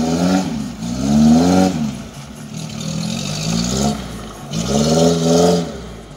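A Suzuki Jimny off-roader with an 800 cc engine revs in repeated rising and falling surges, three swells of engine pitch over a few seconds, fairly close and loud.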